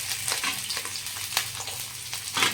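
Garlic frying in a spoonful of hot oil, a steady crackling sizzle with small popping bursts and stirring scrapes, close and moderately loud with no talk over it.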